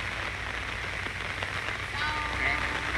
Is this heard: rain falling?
yes